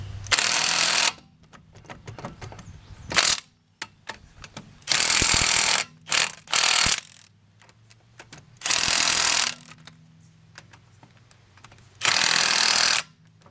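A hand ratchet on 17mm lug bolts of a 1988 BMW 325i front wheel, several separate bursts of rapid clicking spaced by quiet pauses, close and fairly loud with no talking.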